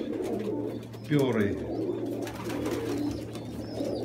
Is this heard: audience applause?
no